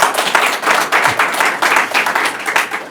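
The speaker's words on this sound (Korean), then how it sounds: "우리 학생들 미래의 주인공들 박수 한번 부탁드립니다." Applause for military studies students at a regional development policy forum, dense steady clapping from a sizeable audience filling the room for several seconds.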